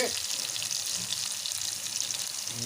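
Chopped onion frying in oil for a Telugu amaranth curry, a steady hiss of sizzling that fills the whole clip at a moderate level with no voices.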